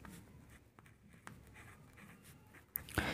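A pen scratches numbers onto paper in soft, intermittent strokes, faint and close, with a few sharper taps near the end.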